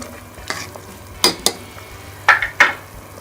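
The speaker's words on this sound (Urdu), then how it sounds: "اس کو اچھی طرح سے مکس کر لیں گے۔" A spoon stirring vegetable soup with added vinegar, soy sauce and chili sauce in a pot: a few sharp scraping clinks against the metal over a faint simmer, close and without talk.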